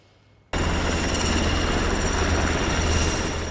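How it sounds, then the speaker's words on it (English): Black Hawk helicopters flying low overhead during a National Guard flood operation placing giant sandbags, bursting in suddenly as a loud, steady wash of rotor and engine roar that holds close and constant after a brief quiet start. "Black Hawk helicopters flew low above Hazeldale Parkway, picking up and then strategically placing 73 giant sandbags to build the dam."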